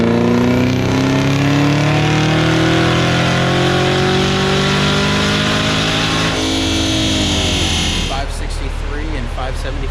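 A supercharged Dodge Hellcat Redeye engine revs hard on a dyno, a loud sustained roar with rising whine that climbs steadily, then drops off abruptly near the end.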